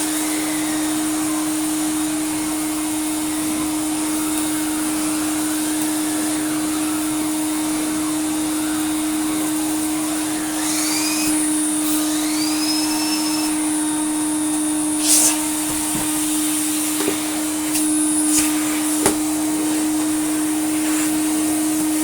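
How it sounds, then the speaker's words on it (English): A restored Eureka Forbes Euroclean 2000 vacuum cleaner runs on carpet with a loud, steady motor drone and a constant tonal whine. Faint rising squeaks and a few brief clicks come through in the second half. "If we go to a thinner pile carpet, so it can spin a bit without getting bogged down by this very thick and unforgiving rug."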